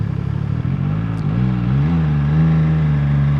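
An MV Agusta Dragster RR motorcycle rumbles along with a steady, deep exhaust drone that rises and settles in pitch as the engine load shifts, close and continuous throughout.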